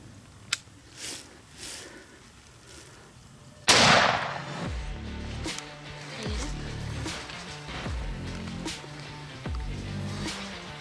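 A single loud gunshot cracks out mid-clip during a Kansas deer hunt, fired at a buck, followed by lingering outdoor rumble and rustling; faint sharp pop earlier.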